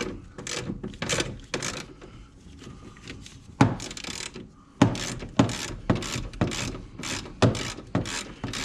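Repeated ratcheting clicks in short bursts as a wrench loosens a bolt on a Tahoe truck's steering gear, close and fairly quiet, with irregular pauses between strokes.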